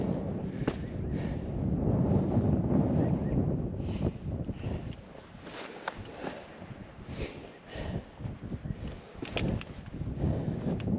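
Wind gusts across a microphone in the southwest desert, a rough broadband rush that swells, eases briefly, then returns with faint scattered knocks and no speech.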